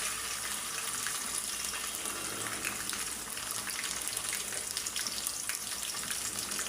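Ginger garlic paste frying in a pan for a Bengali hog plum pickle, a steady loud broadband sizzle with watery hiss that runs unbroken throughout, with no voices.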